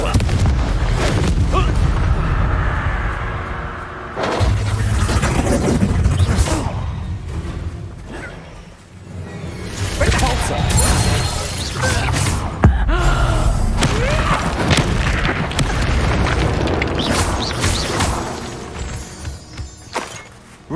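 Repeated Confringo fire spell blasts in the Hogwarts Legacy video game, loud booming explosions and crackling bursts one after another, with a voice casting the spell between them.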